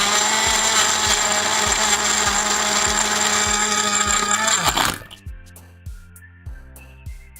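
Video game blender at a bartending sim, a loud continuous grinding whir with rhythmic low thumps that cuts off abruptly around five seconds, leaving only sparse thuds afterward.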